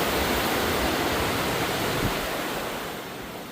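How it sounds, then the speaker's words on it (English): Water running down hotel water slides, a broad steady rushing wash that holds at the same level and then fades slightly toward the end, heard with no speech over it. "So you got a couple water slides."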